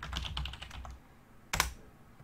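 Quick run of keystrokes on a computer keyboard as an admin password is entered, close and clear, then a pause and one firmer key press, likely Enter, near the end.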